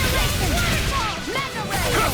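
Rising Falcon strike in the action game Tales of Arise, with rapid crashing impacts and sweeping whooshes amid constant battle noise, and voices shouting during the fight.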